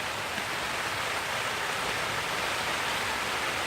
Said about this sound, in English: Yes, it's raining. I'm stuck in the greenhouse.